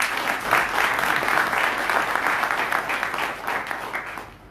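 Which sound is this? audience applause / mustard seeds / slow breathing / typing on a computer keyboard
audience applause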